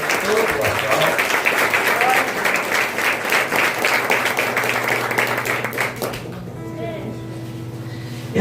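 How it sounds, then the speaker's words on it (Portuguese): A church congregation at a communion service bursts into loud, dense clapping that lasts about six seconds and then fades, leaving quieter room tone and a voice at the end. "Aplauso à palavra do Senhor, que ela merece todo o aplauso."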